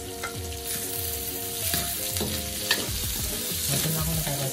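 Chopped onions sizzle and hiss in a hot pan as they soften for a Filipino chop suey, with repeated scraping stirs and light clinks of the utensil against the pan, close and steady, over faint low tonal background music.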